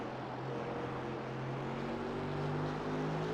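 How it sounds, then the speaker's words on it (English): A Mercedes race car with a big, torquey, low-revving V8 drones at Phillip Island, a steady deep engine roar that swells slightly toward the end. "The Mercedes with that big, torquey, low-revving V8."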